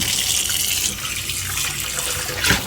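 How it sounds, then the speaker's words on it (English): Water runs from a faucet into a bowl as sprouting seeds are swished and rinsed, a steady close splashing stream with a brief louder gush near the end, no talk. "Swish it around, drain the water out, rinse the bowl"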